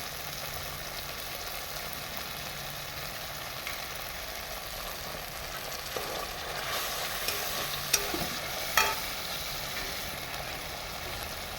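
Lau dhoka curry frying in oil after chili powder and Kashmiri chili powder are added: a steady, even sizzle throughout, with a few sharper clicks and spatters near the end.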